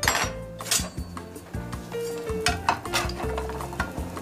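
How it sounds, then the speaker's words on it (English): Egg frying in hot oil in a pan: steady close sizzle broken by metal utensil scrapes and clinks against the pan. "As it's cooking, I have hot oil."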